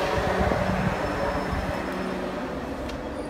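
A Class 444 electric train, unit 444041, rolls into Poole station with a steady low rumble and faint wheel noise, fairly distant and even throughout.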